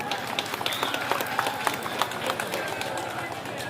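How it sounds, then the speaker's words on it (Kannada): Audience applause at a pyramid-building contest held during a temple chariot festival: a dense, steady patter of many hands clapping throughout, fairly close, with an announcer's voice over it. "ಒಂದು ಜೋರ ಚಪ್ಪಾಳೆ."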